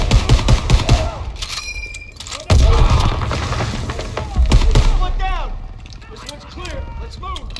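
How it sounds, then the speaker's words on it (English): A grenade blows up in Call of Duty: WWII, giving two heavy booming blasts over ongoing gunfire and battle noise while voices shout nearby. "Grenade!"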